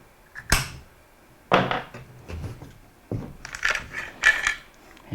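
Parts of a SIG SG-751 SAPR .308 rifle upper receiver are taken apart: sharp metallic clicks, clacks and rattles come close and in uneven bursts, with quiet gaps between them.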